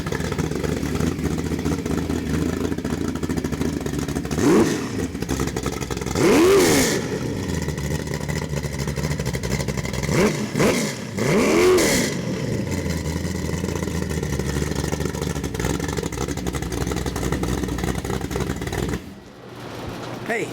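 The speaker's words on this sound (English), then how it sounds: "I'm going to fire this up and let you hear how it sounds." A Ford 347 stroker small-block V8 with Holley Sniper EFI and only mufflers, fitted in a 1967 Ford Mustang, idles loudly and steadily with several sharp revs, then cuts off near the end.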